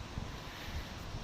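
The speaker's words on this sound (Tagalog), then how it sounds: "Pero masarap ang hangin. Kahit mainit. Mahangin." Wind at Marina Bay, Singapore, buffets the microphone as a faint, steady rumbling hiss with soft low gusts, and no voices are heard.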